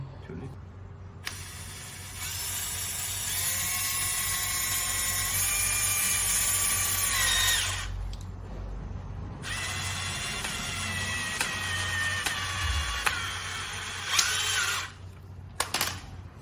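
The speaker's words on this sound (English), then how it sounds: "We screw it, the WPC beam will crack because there is no hole inside." A power drill driving a screw straight into a WPC composite beam with no pre-drilled hole, two long loud whirring runs separated by a pause, then short bursts near the end.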